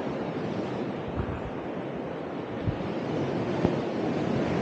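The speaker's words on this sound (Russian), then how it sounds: "Шум моря доносится сюда." A low, continuous rush of Caspian Sea waves at a rocky coastal trail in Aktau, Kazakhstan, with wind noise buffeting the microphone and a few soft thumps, steady and moderately loud, without speech.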